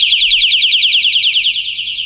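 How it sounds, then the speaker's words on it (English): A projection alarm clock's alarm blares after its pin is pulled, a loud, rapid, warbling electronic beeping that repeats steadily without pause. "Now what you'll notice is once I pull the pin on this, this alarm is going to go off"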